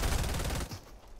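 A quick rattle of burst SMG fire in Fortnite, with several rapid shots packed into the first half-second before fading into quieter game ambience.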